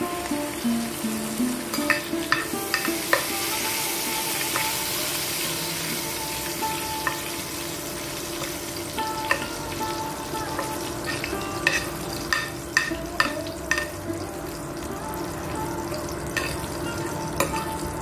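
Curry leaves and asafoetida crackle in hot oil in a pan while a vegetable dish is cooked. A steady close sizzle runs throughout, broken by sharp pops and stirring clatter, with no one speaking.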